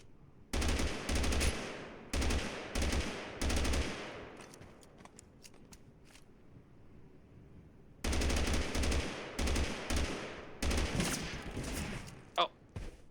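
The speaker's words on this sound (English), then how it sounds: "that's some kind of sniper. It's fast, it's the Grand, I'm guessing" Rifle gunfire in the battle game TABG comes in loud clustered bursts of rapid shots, with a quieter gap in the middle and a few distant cracks before the firing resumes.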